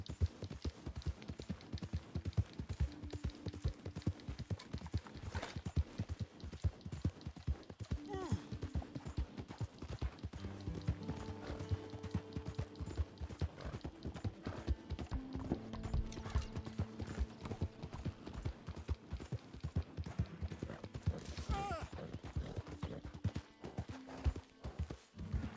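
Horse hooves clop in a rapid, steady galloping rhythm in the video game Red Dead Redemption 2, with mechanical creaks and tack jingle alongside, plus game music and character voices talking over the hoofbeats.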